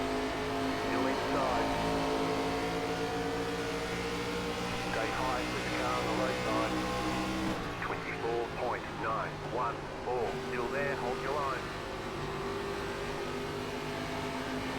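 Simulated stock cars in an ARCA Series race at Rockingham Speedway in the iRacing game give a loud, continuous engine drone with shifting pitch as cars circle nearby, while someone talks over it throughout.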